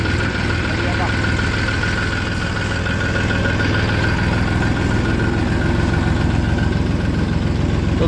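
A tractor engine runs in second gear with a loud, steady low rumble close by, never letting up, while voices talk faintly over it.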